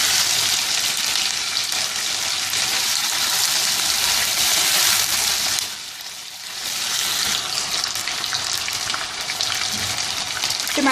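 Chicken pieces sear loudly in a hot pan, a dense, close sizzle that briefly eases before returning full strength, with no voices.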